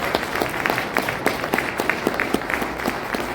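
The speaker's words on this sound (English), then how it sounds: "give everyone in this room a round of applause" An audience in a room giving a round of applause, dense sustained clapping from many people with individual sharp claps standing out, close and fairly loud throughout.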